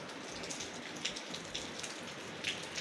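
Steady light rain falling on garden plants outdoors in Cyprus, a continuous soft patter with scattered sharper drops splashing nearby, moderately quiet and without voices.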